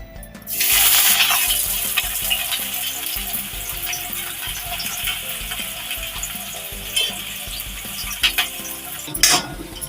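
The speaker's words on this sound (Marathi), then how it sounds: "आपलं तेल गरम झालंय आता आपण कांदा टाकून घेऊया" Chopped onion drops into hot oil in a kadai while soybean curry is being made, and a loud burst of sizzling starts and holds steady for several seconds, with occasional scrapes of a spoon against the pan.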